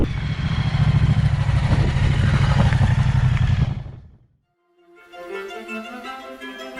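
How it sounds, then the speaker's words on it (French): A Moto Guzzi V100 engine runs loudly with a rattling, metallic clatter for several seconds, then cuts out briefly before a quieter, steady idle resumes. "le mécano me dit que c'est voilà, un moteur qui a un bruit métallique"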